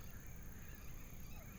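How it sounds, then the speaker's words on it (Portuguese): Flock of birds including macaws calling in the open at sunset, a dense chorus of honking, squawking cries at a moderate distance, continuous and fairly faint with no voices. "vocês conseguem ouvir o barulho dos passarinhos?"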